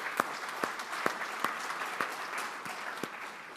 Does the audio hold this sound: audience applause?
yes